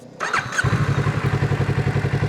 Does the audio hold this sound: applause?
no